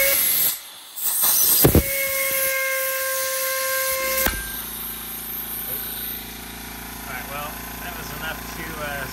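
A Lincoln 3601 oil drain tank starting to draw oil, a loud sharp hiss and clunks early, then a sustained whistling hiss settling into a steady hum as a voice talks over it.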